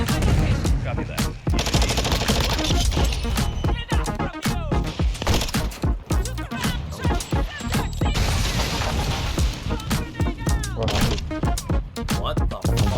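Sustained close automatic gunfire in Call of Duty MWII multiplayer, with dense bursts and sharp individual shots that keep going with only brief gaps, heavy and loud throughout.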